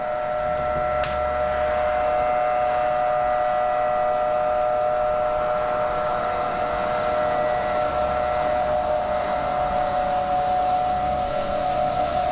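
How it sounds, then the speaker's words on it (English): Air raid sirens drone continuously over Kuwait City during the Iraq war, a steady wailing tone holding for the whole stretch beneath distant background noise. "That is the sound of the sirens that you would hear throughout Kuwait City."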